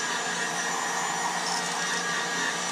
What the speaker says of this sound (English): I'm just going to really quickly run the heat gun over the bait to heat set that paint